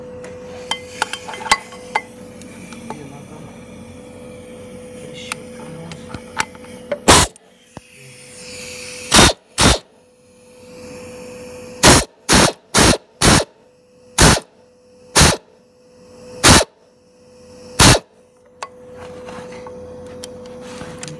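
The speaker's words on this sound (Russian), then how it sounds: "сейчас поставлю и трещоткой" Sharp metallic clicks and clanks from a ratchet wrench tightening a bolt on the front crankshaft seal of a JCB 3CX backhoe loader, about a dozen spaced loud strikes after a quieter stretch of faint tinkering under a steady hum.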